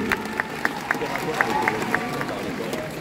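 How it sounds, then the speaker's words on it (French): Audience at a cosplay contest on a convention stage, clapping for the performers, with a regular rhythmic beat of claps standing out over crowd noise and a speaking voice. "On applaudit bien fort le Vogue Mary."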